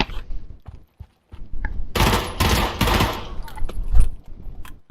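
Rapid bursts of MP5 submachine-gun fire in the Pavlov VR shooter, loud and close, with a sustained automatic volley in the middle and scattered single shots before and after.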